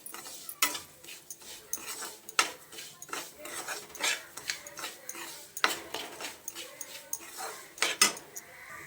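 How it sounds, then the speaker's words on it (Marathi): Rice roasting in ghee in a pan is stirred with a utensil, giving a string of irregular scraping clicks and clinks against the metal, fairly close with faint frying beneath. "हे तांदूळ तुपामध्ये भाजून घ्यायचे व्यवस्थित"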